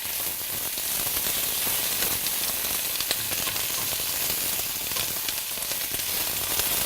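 Onions sizzling in hot oil infused with spices, a dense, even hiss of frying that holds steadily loud and close throughout with fine crackling.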